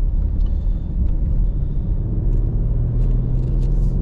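Deep, steady rumble of a Mercedes V8 engine, a continuous low drone running throughout at a moderate, even level with no talk over it.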